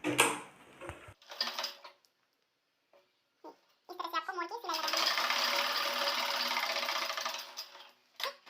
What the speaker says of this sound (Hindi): तो चलिए इसमें सिलाई लगा लेते हैं।